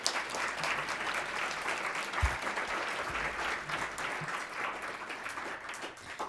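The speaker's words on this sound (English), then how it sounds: "round of applause for our panelists today" A forum audience applauds its panelists with steady, moderate clapping that holds throughout.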